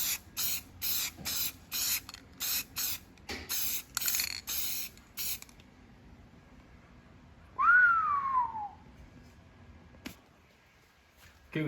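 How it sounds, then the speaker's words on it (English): A spray paint can applied to letters in rapid bursts of hissing spray, about a dozen short even strokes close up, followed by a rising then falling whistle and a brief click, with no speech. "spray with even strokes"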